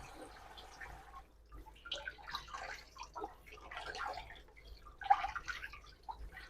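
Homemade butter rinsed under running water and squeezed by hand to press out buttermilk, with intermittent splashing, dripping and squelching bursts, moderately quiet and close, no talking.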